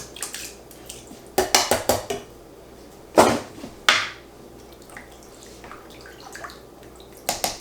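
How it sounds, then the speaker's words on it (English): A can of fire-roasted diced tomatoes with juice is tipped into a rustic beef stew pot, giving a few bursts of metallic clanks and wet splats between quiet pauses. "One of the things I'm going to do first is add a can of diced tomatoes."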